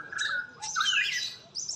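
A magpie robin (murai) sunning outdoors, chirping close by in a quick series of bright, varied whistles and tweets with short gaps, alone and fairly loud.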